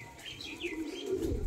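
Pigeons of the Kasuri kalshira breed, a male and a female, make a soft, faint coo close by, with a few brief higher chirps and light rustling.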